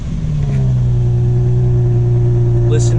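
A 2003 Infiniti G35 Coupe with stock exhaust idles just after starting, a loud steady engine hum with a low pitch that settles and holds, close to the microphone.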